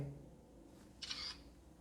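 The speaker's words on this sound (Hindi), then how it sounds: "सबसे पहले एक पिक्चर में क्लिक कर लेता हूँ" A single soft shutter click from an Infinix Note 11 smartphone camera, brief and quiet against a low background hum.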